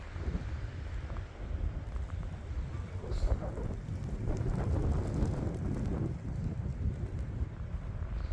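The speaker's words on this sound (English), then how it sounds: "The wind has really picked up in the last 30 minutes or so." Strong wind roars and gusts steadily during a major winter snowstorm with lake-enhanced snow in Valparaiso, Indiana, a dense continuous rush with buffeting against the microphone and no talk.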